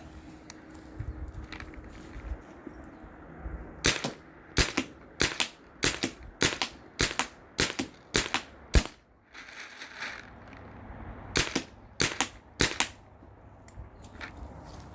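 A Spyder Rodeo paintball marker with a gravity-fed hopper fires a rapid, evenly spaced run of sharp, loud pops, then pauses before a quick final burst, with quiet background between shots.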